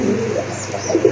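A large male pigeon coos nearby with low, throaty rolling calls in short repeated bursts, loud and close.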